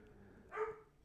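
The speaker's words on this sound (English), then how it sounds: "my dog is sounding the alarm back there" A dog barking in the background, one faint, short burst from a distance that is barely above the room's quiet noise.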